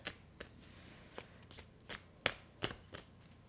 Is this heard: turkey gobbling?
no